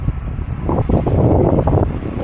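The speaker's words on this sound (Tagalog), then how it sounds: "Malakas na nga yung hangin" Strong gusty wind buffets the microphone of a rider cycling an Audax 200 route near Baler, producing a loud, continuous rumbling roar that rises and falls in waves.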